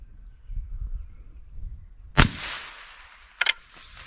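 .22 Long Rifle rounds fired through a chronograph, heard as one sharp, loud report after a quiet lead-in, followed by a smaller second crack about a second later.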